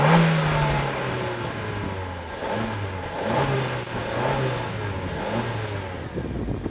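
A Suzuki Swift Sport's 1.4 Boosterjet engine and twin exhaust pull under acceleration with a subdued, steady drone whose pitch wavers and climbs in stages, recorded from inside the car and continuous throughout, with no talking.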